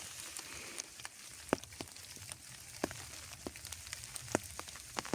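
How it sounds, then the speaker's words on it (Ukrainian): Rain dripping and pattering in a spring forest, scattered sharp drops and ticks striking leaves and ground at irregular intervals over a soft steady hiss, close by, with no voices. "і шум від дощу."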